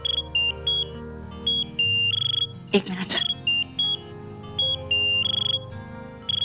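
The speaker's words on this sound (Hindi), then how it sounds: "माँ जी का फोन है।" A phone ringtone plays a repeating pattern of electronic beeping tones, loud and close indoors, and a person briefly speaks over it partway through.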